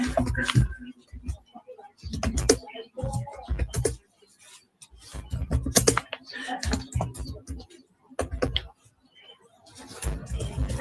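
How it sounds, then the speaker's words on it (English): Keys on a computer keyboard clatter in quick bursts with short pauses between them, close and fairly loud. "1 second, let's type something. I'm gonna type the importance."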